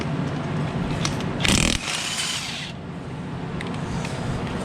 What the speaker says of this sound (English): We're using our big DeWalt impact.